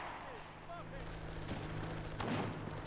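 A single gunshot cracks out in the World War II shooter Enlisted, set against low battlefield rumble and a few faint background sounds.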